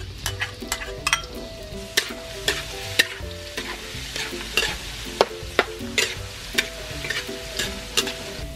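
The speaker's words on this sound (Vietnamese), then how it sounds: "các bạn sẽ cho dầu ăn vào chảo để mình đi phi tỏi nha" Garlic sizzles steadily as it fries in cooking oil in a pan while a utensil clicks and scrapes against it again and again, close up and fairly quiet.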